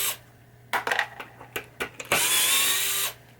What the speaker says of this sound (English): There's four screws on the back here that we will take off.